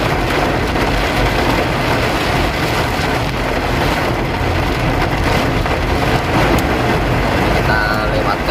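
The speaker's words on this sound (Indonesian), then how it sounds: "hujannya deras sekali ini ya" Heavy rain pours down steadily over a 2008 Honda CR-V third generation, a dense, loud, unbroken wash of drumming with a voice talking underneath.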